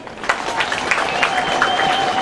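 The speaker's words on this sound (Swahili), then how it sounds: "Tumwambie pongezi makofi kwake." A crowd at a church ordination ceremony applauds the builder of a newly built shelter, with steady, moderately loud clapping and a few distinct sharper claps, while a faint sustained tone hums underneath.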